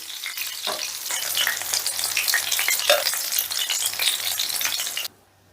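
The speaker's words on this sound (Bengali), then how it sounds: "মাছগুলো দেখো একটা পিঠ ভাজা হয়ে গেছে এবারে আমি উল্টে দিচ্ছি দেখো মাছগুলোকে" Pieces of rui fish sizzle loudly and steadily in hot oil, with a couple of soft knocks as they are turned over. The frying stops abruptly at the end.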